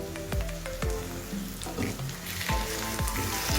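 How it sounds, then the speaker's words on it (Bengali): Pointed gourd being sautéed with turmeric, a little chilli powder and sugar in a pan, giving a steady close sizzle and frying crackle with repeated stirring clatters and soft wet squishes. "এবার সমস্ত উপকরণের সাথে পটলটাকে ভালোভাবে কষে নেব"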